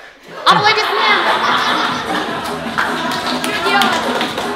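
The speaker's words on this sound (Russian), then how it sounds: "Аплодисменты!" Applause rings out at a children's birthday party, a dense burst of clapping from the guests that starts sharply and keeps going steadily, with chuckles and chatter mixed in.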